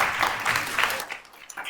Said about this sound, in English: warm round of applause as well